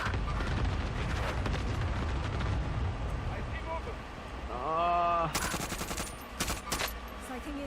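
Video game gunfire: rapid automatic bursts and fast shot clusters, loud and close. A voice talks over the first part of the shooting.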